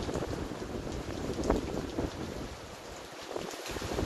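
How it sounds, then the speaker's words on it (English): Strong hurricane wind gusts roar in Jamaica as a dense, steady rushing buffets the microphone, swelling slightly in places, with no voices. "that's probably some of the biggest gusts we've had."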